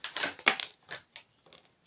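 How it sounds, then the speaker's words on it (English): Tarot cards are shuffled and dropped onto a surface, giving a quick run of close, crisp slaps and rustles that thin out into softer scattered flutters. "So let's shuffle the cards. I'll let them all fall and then I shall go through them."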